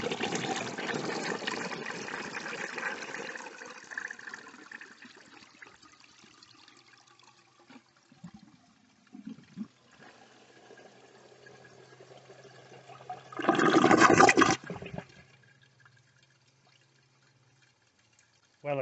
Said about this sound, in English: Under normal use, this toilet would be fine.